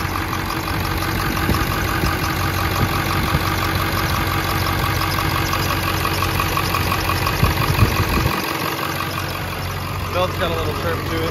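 A 1999 Ford F-250 with a 7.3L diesel engine idles close by, a dense continuous rumble with steady clatter and a faint belt whine, running unchanged throughout.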